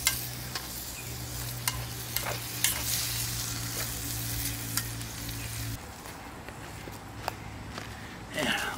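Pork chop pan over a campfire being deglazed with beef stock, a steady loud sizzle with repeated scraping strokes of a utensil against the pan, easing off near the end, with a voice talking over it.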